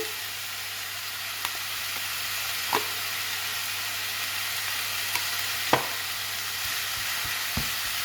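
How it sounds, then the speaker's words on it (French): Seasoned minced meat with salt, pepper, garlic powder and chopped fresh parsley and coriander is stirred in a pan, giving a soft steady scraping with a few light clicks of the utensil, fairly quiet and with no talking. "Et on mélange."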